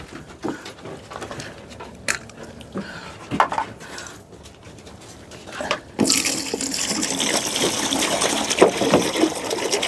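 Water runs and splashes into a container, starting soft and intermittent with a few clinks, then turning into a steady, louder pour for the last few seconds, close by with no talk.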